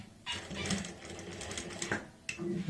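A sewing machine runs steadily while stitching a pocket onto fabric, a continuous whirring needle rattle with a brief pause near the end before it starts again, fairly quiet, with no talking.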